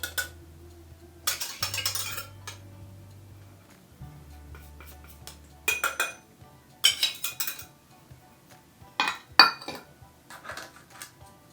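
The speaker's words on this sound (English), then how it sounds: "So we're going to grab our big bowl and mix all of our dry ingredients together first." Flour and dry ingredients for carrot cake pops are handled in a big bowl, with scattered clinks and scrapes of utensils against the bowl between quiet pauses.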